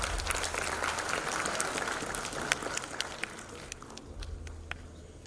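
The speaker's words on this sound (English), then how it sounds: "A warm round of applause here." A symposium audience on seafarers' recruitment and welfare applauds to welcome a speaker, a dense, steady round of clapping from many hands that carries on for several seconds before thinning out.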